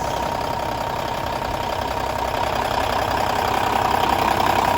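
A Kenworth T800 glider with a red-headed Cummins diesel idles nearby in a steady, even rumble with a low knocking texture, unbroken for several seconds and with no voices.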